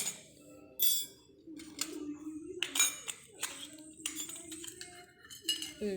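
A children's toy kitchen utensil set of small pots is handled, giving scattered light metallic clinks and taps with quiet pauses between them, alongside some faint speech.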